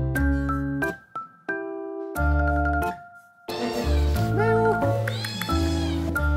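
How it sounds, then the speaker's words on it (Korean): A young cat at a family home in rural Vietnam meows in a few drawn-out, rising and falling calls over loud sustained musical tones. "옛날에 여기 났던 새끼 고양이지?"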